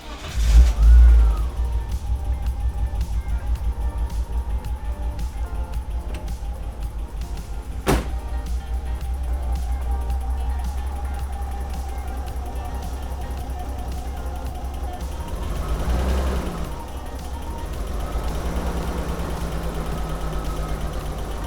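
A BMW found abandoned in a forest runs at idle with a steady low engine rumble, close and loud throughout, with a sharp click partway and a brief rise in revs near the end.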